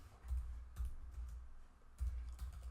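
Bursts of keystrokes on a computer keyboard as a password is entered, three short clustered runs of clicking with brief pauses between, close and fairly quiet.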